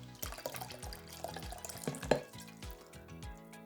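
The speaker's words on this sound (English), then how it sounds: "Let's take some more water out" Water glugs and splashes as it is poured out of a bottle used for a pitch demonstration, a run of gurgling pulses with a few brighter splashes, close and alone.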